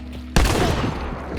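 A single loud gunshot cracks suddenly in the video game Hunt: Showdown, its echo and rumble tailing off over the next second without any speech.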